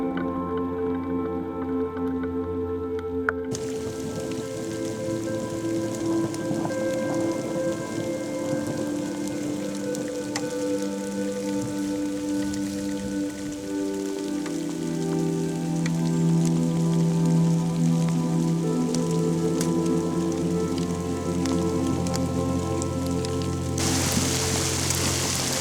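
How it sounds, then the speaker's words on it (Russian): Light rain begins pattering on a surface, soft scattered drops over a steady low hum, gradually growing a little denser. "Начало капать."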